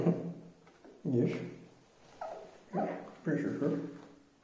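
A dog whimpers and yips in a series of short, close, high-pitched whines, about five bursts spaced roughly a second apart.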